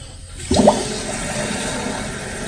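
Water rushes and hisses steadily after a brief gurgling start, like a toilet tank refilling nearby, continuing without pause.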